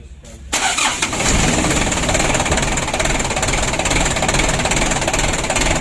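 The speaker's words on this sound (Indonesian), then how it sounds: "Untuk mesinnya sudah hidup" A rebuilt Mitsubishi 4D34 diesel engine cranks briefly and fires up, then settles into a loud, rough, steady clattering idle close by, with someone talking over it.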